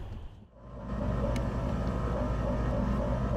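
A motorboat stuck on a sandbar at a landing revs its engine hard, throwing a rooster tail. After a brief dip, the deep, steady roar rises and holds loud and continuous outdoors.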